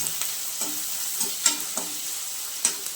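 Onions sautéing in a pan with cluster beans and salt, a soft steady sizzle with a few light stirring scrapes and taps, close and alone without talk.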